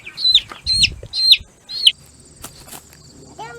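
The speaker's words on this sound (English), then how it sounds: "I caught a chick." A freshly caught chick on a farm gives four quick, loud, high-pitched peeps close by, along with brief rustling and flapping. A fainter chirp follows afterwards.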